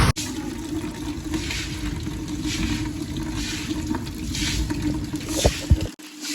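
After an hour of heavy rain, water runs everywhere on farmland, making a loud, steady rushing and splashing that never lets up, with no voices over it.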